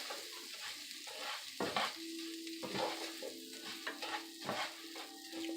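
Rice toasts in a pan over medium-high heat on a home stove, a quiet steady sizzle with soft scraping stir strokes and grains shifting throughout, no voices.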